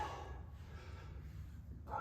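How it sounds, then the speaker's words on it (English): A dog barks outside at a yard fence, heard faintly and at a distance, with low steady background noise and a brief louder burst at the end. "He's just standing at the fence barking at literally nothing."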